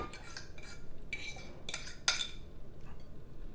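A utensil scrapes and clinks against a dish while grated zucchini is cleared out, giving several short bright scrapes with one sharper knock near the middle, fairly quiet and close, no talking.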